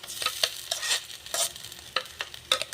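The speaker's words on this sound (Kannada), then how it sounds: "ಶುಂಠಿ ಬೆಳ್ಳುಳ್ಳಿ ಪೇಸ್ಟು ಇವಾಗ ಗೋಲ್ಡನ್ ಕಲರ್ ಬರೋವರೆಗೂ ಸ್ವಲ್ಪ ಫ್ರೈ ಆಗಲಿ" Ginger garlic paste fries in a hot pan for a tomato sambar and is stirred, giving soft sizzling broken by irregular scraping strokes of the spoon, close by and with no voices.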